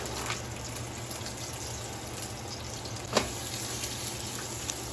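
Pork sausage fries in olive oil in a pan, giving a low continuous sizzle with a single sharp clatter midway and a faint tap near the end.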